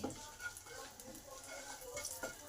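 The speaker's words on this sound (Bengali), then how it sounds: "আর শুকনো লঙ্কাটা ভেঙে দিয়ে দিলাম এবার এগুলোকে একটু ভালো করে ভেজে নেব কয়েক সেকেন্ড" Panch phoron, bay leaf and broken dried red chili fry in hot oil over a low gas flame, giving a faint, steady sizzle with light crackles and no voices.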